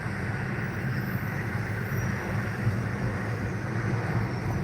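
A metro train on the Las Vegas Strip at night rumbles past steadily at moderate distance, a continuous broadband roar of wheels and cars with no talk over it.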